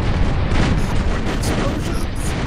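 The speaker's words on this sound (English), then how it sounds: "Oh my god, it's too many explosions" Dense barrage of explosions and cannon fire in the real-time strategy game Empire Earth 2, booms overlapping continuously and loudly, with a voice talking over them.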